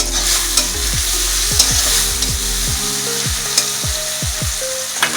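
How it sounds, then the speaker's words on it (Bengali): Tilapia fish and garlic fry in hot oil with a continuous loud sizzle, while a spatula stirs and scrapes the pan in repeated strokes close by, and no one speaks. "দিয়ে ভাজা ভাজা কর।"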